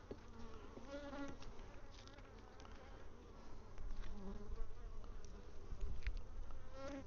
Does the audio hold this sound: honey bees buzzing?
yes